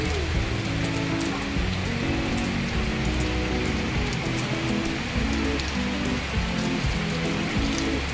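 Steady rain patters on a surface nearby in Bohol, Philippines, with scattered drips and a low continuous rumble underneath.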